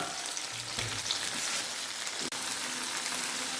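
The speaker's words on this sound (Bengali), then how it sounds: "মশলাটা আমার হালকা ভাজা হয়ে গেছে।" Cumin and spice paste frying in a pan: a dense, continuous close-up sizzle that stays steady and loud, with a brief dip partway through.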